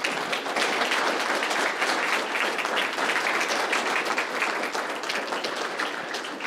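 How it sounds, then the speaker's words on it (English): Applause from a conference audience after a talk at a race, ethnicity and identity conference: a dense, steady wash of many hands clapping that holds at an even level for several seconds with no speech over it. "a round of applause."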